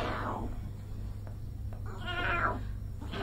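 A person imitates a cat, giving drawn-out meows and purring sounds that come close and moderately loud against a low background hum.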